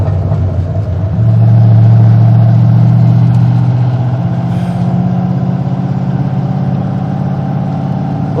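A 1970 Ford Mustang Fastback's engine pulls in second gear, a loud, close, continuous rumbling drone that rises briefly in pitch and level before holding steady through the rest of the run.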